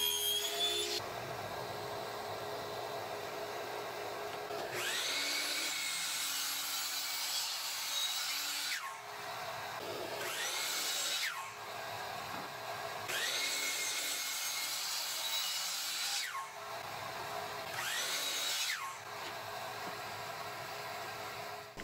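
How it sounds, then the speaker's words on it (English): A table saw trims excess wooden stock from a decorative sign, its whine rising and dropping as several passes are cut, loud and steady with short pauses between cuts. "bring it over to the table saw to trim off those pieces of excess stock"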